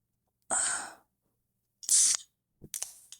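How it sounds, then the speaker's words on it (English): Close and quiet, an energy drink can pops open with a sharp hiss of fizz, followed by two more short hissing bursts after pauses. "Crack this open."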